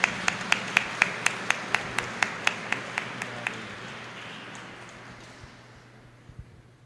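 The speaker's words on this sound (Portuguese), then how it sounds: "Então vamos acolhê-lo com uma salva de palmas." A single pair of hands claps in a steady, evenly spaced rhythm inside a church during a novena service, about fifteen sharp claps that gradually fade before the room falls quiet.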